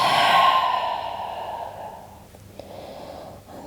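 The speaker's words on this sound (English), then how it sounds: "Out breath through the mouth." A long, breathy exhale through the mouth during gentle yoga, a soft airy sigh that fades over about two seconds, followed by quieter breath.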